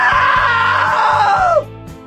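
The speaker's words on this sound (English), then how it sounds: "Now that was a great scream." A long, loud scream holds steady, then slides downward in pitch and cuts off abruptly, over a steady thumping music beat.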